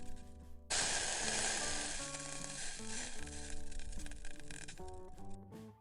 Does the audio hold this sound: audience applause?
no